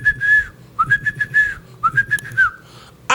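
Someone whistles a short tune in three bright, wavering phrases with brief pauses between, up close and clear, ending with a sharp click.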